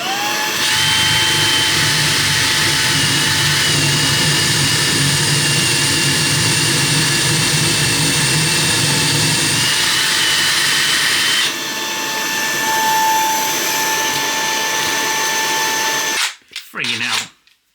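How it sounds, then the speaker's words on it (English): A power drill in hammer mode bores through the wall of a VW Crafter campervan self-build, a loud, steady grinding roar lasting about sixteen seconds. Its pitch shifts partway through, and it cuts out abruptly with a brief clatter at the end. "Are we on hammer mode?"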